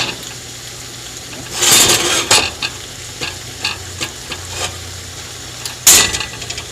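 A Thai turkey stir-fry sizzles steadily in a pan, with a couple of louder bursts of spitting and a few scattered clinks and stirring taps over the constant frying hiss.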